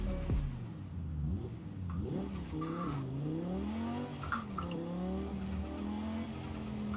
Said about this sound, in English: this thing somehow sounds even better upgraded, especially with the turbo blow-off valves when you decelerate